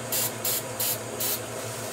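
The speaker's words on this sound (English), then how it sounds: "I am going to spray a little bit more" Stain remover sprayed onto a sports jersey from a trigger spray bottle, four short, even hissing bursts in a steady rhythm, close and clear with no talking.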